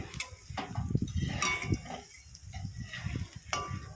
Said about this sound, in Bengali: দেখো বড়াগুলো ভাজা হচ্ছে আস্তে আস্তে কম আঁচ করে দিয়ে আমি ভাজছি